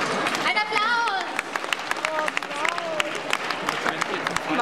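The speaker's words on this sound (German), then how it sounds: "Ein Applaus!" A crowd at a book fair Sailor Moon quiz bursts into dense applause, loud and close, with voices calling out over the clapping throughout.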